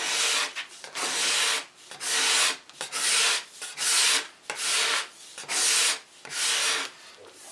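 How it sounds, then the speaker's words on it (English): A cabinet scraper makes about ten steady rasping strokes along the edges of a wooden storage cabinet, each pass a bright scratchy rub with short pauses between, close and clear with no talk. "I'll take my cabinet scraper and make sure I have a good edge on it"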